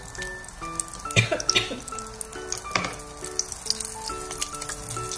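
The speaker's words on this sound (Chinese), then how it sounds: "点一点耐煎的小米辣，噼里啪啦" Bird's eye chili peppers crackle and spit in a small low-power electric hot pot, with irregular pops and sizzles over soft background music.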